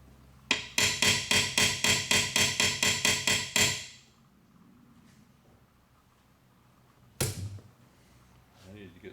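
Hammer strikes on the air cleaner of a 1976 Pontiac Trans Am: a fast, even run of about fourteen loud metallic blows, then quiet, then one more sharp hit and a faint knock near the end.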